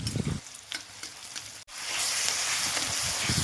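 Chopped onion fries in hot oil with cumin and mustard seeds, a loud, steady sizzle close by, with a dull clatter of stirring and a brief break partway through before the frying rises again.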